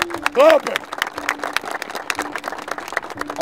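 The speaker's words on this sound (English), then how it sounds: "Everybody, clapping." A football team claps together after a hard workout: sharp, scattered hand claps from a group ring out irregularly, mixed with a brief shout and voices nearby.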